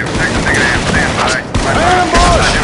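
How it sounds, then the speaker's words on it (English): Heavy, continuous gunfire from the Vietnam War video game Shellshock: Nam '67, loud rattling automatic bursts and booms filling the whole stretch, with voices shouting over the battle. "We're under heavy fire."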